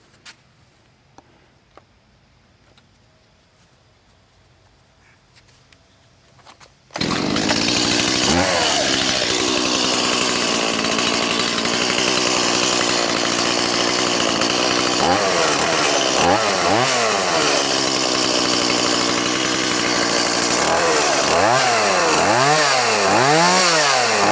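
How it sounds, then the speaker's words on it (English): After several seconds of near silence, a chainsaw roars to life loudly and close, running continuously with its pitch rising and falling as it revs. "We're going to start with the chainsaw."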